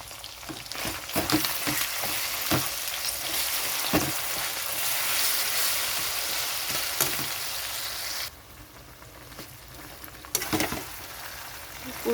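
Boiled taro leaves hit a hot pan with prawns, giving a loud, steady sizzle broken by sharp scraping clicks of stirring, then dropping to a quieter crackle near the end.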